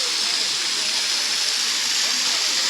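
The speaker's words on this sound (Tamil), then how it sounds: "இப்போ வந்து தண்ணி வந்து சைடில் தான் தண்ணி விழுந்துக்கிட்டு இருக்குது." A steady, loud rush of falling water fills the clip without pause, a dense roar from a nearby waterfall at Courtallam.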